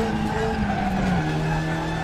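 A TCR touring car in the RaceRoom sim at the Nordschleife slides tail-out, its tires squealing in a steady skid as the engine holds a sustained drone that dips slightly in pitch partway through.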